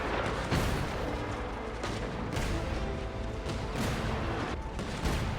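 Continuous heavy artillery fire in a video game, a dense, loud roar of booms and blasts blending into an unbroken wall of noise with a few sharper peaks.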